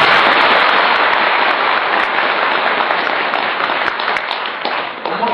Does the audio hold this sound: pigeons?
no